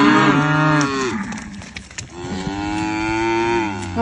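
A Highland cow on a farm lets out two long, loud, close moos with a short pause between them, the deep drawn-out calls filling the clip.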